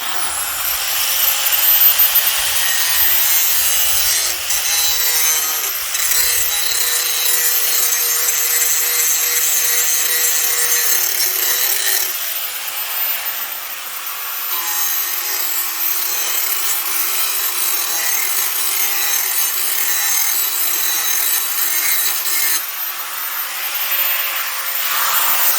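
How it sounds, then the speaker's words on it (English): A dull lawn mower blade is ground sharp, a loud continuous abrasive grinding rasp that shifts tone as the pressure changes, with no speech. "So I'm going to go ahead and grind this up."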